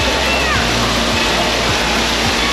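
Water pours and splashes steadily at an indoor water park at Great Wolf Lodge in Concord, North Carolina, a loud, continuous broadband rush filling the whole moment with no break.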